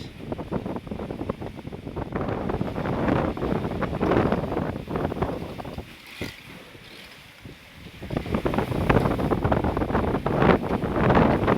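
Strong wind buffets the microphone atop a fishing boat's pilot house over the steady churn of the boat on open water, roaring loudly with a brief lull in the middle.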